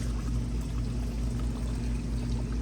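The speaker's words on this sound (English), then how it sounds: "the water comes up through the hole, cycles back down" Water from a small garden fountain set in a one-gallon pot in the ground pours and splashes steadily, a constant close trickling stream with no talk.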